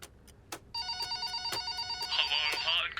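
A telephone rings on a radio call-in prize show, a bright repeating electronic bell pattern that starts after a couple of soft clicks and holds steady and fairly close for a few seconds, with no speech over it.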